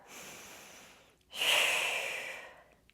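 Two breaths taken during a Pilates lunge exercise at home: a soft inhale, a brief pause, then a louder, longer breathy exhale close to the microphone.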